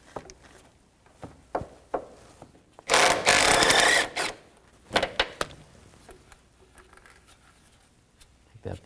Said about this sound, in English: Now take this bolt out, just move the belt out of your way a little bit and use a 12mm socket.